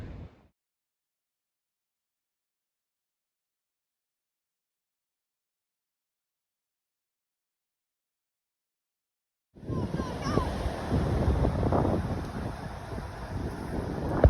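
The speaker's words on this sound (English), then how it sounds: "It's stinking windy as today." After a long silence, strong wind at Anatori suddenly buffets the microphone with a loud, continuous roar and rumble that carries on to the end.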